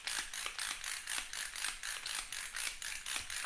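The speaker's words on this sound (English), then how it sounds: "I'm just using my hand grinder" Hand spice grinder grinding coriander seeds, a quick steady series of ratcheting, clicking grinds repeating about every quarter second, close and fairly quiet with no talking.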